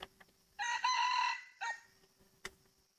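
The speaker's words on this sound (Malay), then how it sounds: "dengar lagi kokok ayam jantan" A rooster crows once, clear and fairly close, a drawn-out harmonic call followed by a short trailing note and a faint click, against a quiet background.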